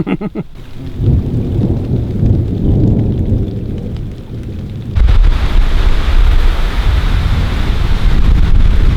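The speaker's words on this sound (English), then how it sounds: "Raining." Heavy rain pours down with rolling thunder at an outdoor wilderness camp, a loud continuous roar of rainfall and deep rumbling, with wind buffeting the microphone and an abrupt surge in intensity partway through.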